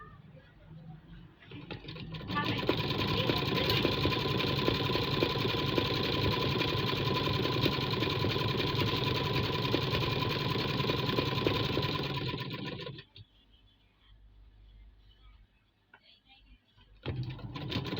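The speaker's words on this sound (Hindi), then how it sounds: "इस तरह से मार्जिन को दबाकर सिलाई लगाएंगे" Sewing machine stitching a fabric hem runs in one steady, continuous whirring burst for about ten seconds, fairly close, then stops, leaving quiet room sound with faint talk.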